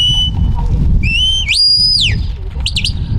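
Shepherd's whistle commands to a trained sheepdog working sheep: several sharp, shrill whistled calls, some rising and falling in pitch, clear and close over a low outdoor rumble.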